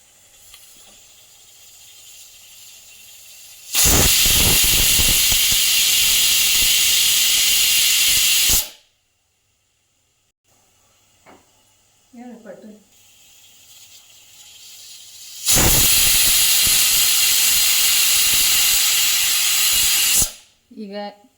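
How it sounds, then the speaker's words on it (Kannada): Pressure cooker on a gas stove whistling as tomato rice cooks, two long loud hissing steam blasts separated by a quiet gap with faint clatter. "ಈಗ ನಾವು ಕುಕ್ಕರ್ ಲಿಡ್ ಕ್ಲೋಸ್ ಮಾಡಿಬಿಟ್ಟು ವಿಸಿಲ್ ಹಾಕೋಣ"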